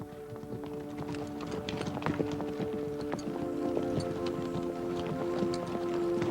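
Horse hooves clop at an even walking pace, soft and a little distant, over a steady low hum.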